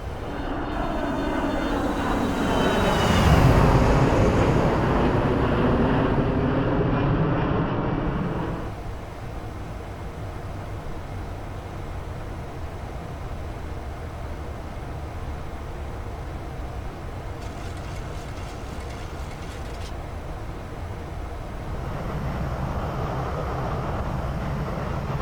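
An airliner in X-Plane 11 climbs after takeoff, its engines giving a steady, loud roar with a rising whine early on that settles into a constant drone and swells again near the end.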